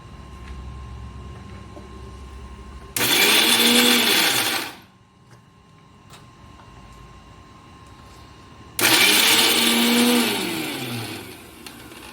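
Mixer grinder grinding coconut for chutney, two loud whirring bursts of about two and three seconds separated by a quiet pause, each starting abruptly and winding down.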